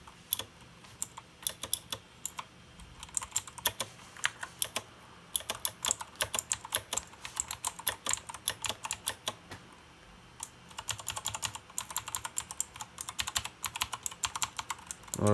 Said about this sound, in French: vraiment le clavier fait un super son